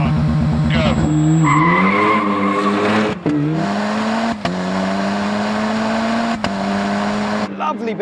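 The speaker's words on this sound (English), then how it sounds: "Lovely bit of wheel spin away from the line there." Ariel Atom 4R with a 2-litre turbo engine spins its wheels pulling away from a standing start on a test track, a loud continuous engine drone rising in pitch through the gears with tire scrabble, close and alone.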